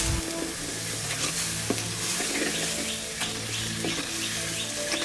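Tempering for a traditional soursop curry sizzles steadily in a hot pan while it is stirred, a dense, continuous frying hiss with occasional scraping, close and without voices.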